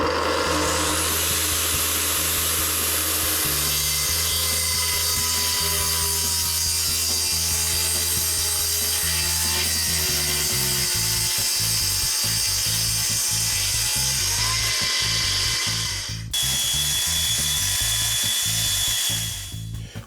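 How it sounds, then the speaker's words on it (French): A bench power saw, a machine worked with both hands on it, cuts cleanly through solid wood, making a loud continuous mechanical whine with pulsing, ratcheting texture for about twenty seconds and no talking. "ce qui me permettra d'avoir mes deux mains positionnées sur la machine"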